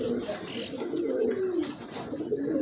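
Pigeons coo steadily in low, throaty warbles, several birds overlapping close by, with faint chirps above.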